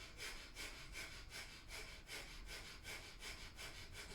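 Rapid breath of fire during a Kundalini yoga crisscross exercise: quick, even, forceful nasal exhales pulsing about twice a second, close and steady, with no talking.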